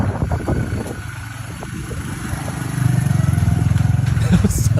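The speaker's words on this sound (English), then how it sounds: "Sounds like a four-wheeler or something." A four-wheeler or side-by-side engine rumbles and grows louder as it passes close by, a steady throbbing drone under people talking outdoors.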